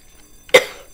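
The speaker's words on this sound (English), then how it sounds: "It's me coughing." One short, sharp cough from a person, close and abrupt against a quiet background with no talking.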